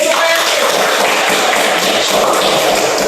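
A classroom breaks into applause: dense, loud, close clapping from many hands, blended with some children's voices.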